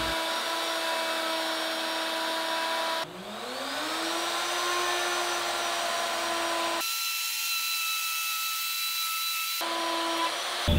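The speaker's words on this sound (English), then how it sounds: "So with 1/2 inch spiral bit and a guide bushing, I'm going to use my template. I'm going to form a groove all the way down this board" A woodworking router fitted with a half-inch spiral bit and guide bushing cuts a groove along a board against a template, a steady loud whine that shifts pitch as the cut loads and eases, with no talk.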